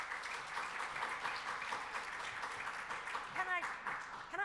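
Audience at a conference workshop applauding, a dense patter of many hands clapping, moderately distant, with a voice starting to speak near the end.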